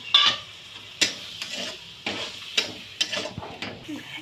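A masala of cumin and coriander powder with a splash of water is stirred in a pan, producing repeated sharp scraping strokes roughly every half second over a low sizzle.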